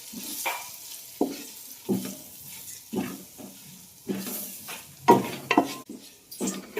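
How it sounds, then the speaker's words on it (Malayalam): Spices, including Kashmiri chilli powder, sizzle in a pan for a mackerel curry while a spoon stirs and scrapes at roughly one-second intervals, close and clattery, with no talking. "നല്ലവണ്ണം എല്ലാം കൂടെ ഇളക്കി യോജിപ്പിക്കുക"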